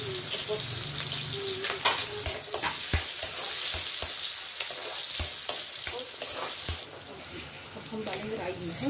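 Onions frying in hot oil with garam masala in a pan, a constant sizzle broken by sharp spatula knocks and scrapes, with a voice talking at times.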